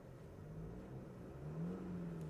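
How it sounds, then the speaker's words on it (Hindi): The 4-cylinder turbo diesel engine of an MG Majestor 7-seater SUV idles and rises in a mild rev, a steady low drone that swells slightly toward the end, faint and recorded alone without talk. "ये है भाई इसका जो 4 सिलेंडर का टर्बो डीजल इंजन है उसकी साउंड।"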